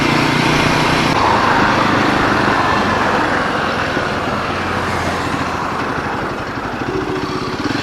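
A Royal Enfield Himalayan 450 motorcycle engine hums steadily and loudly up close as it rides down toward the Ghataprabha river, a continuous drone with slight shifts in pitch and no talking.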